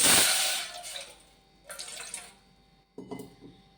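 Water splashes and pours into a pan for dissolving jaggery in short bursts, a loud gush followed by two briefer pours with quiet gaps between.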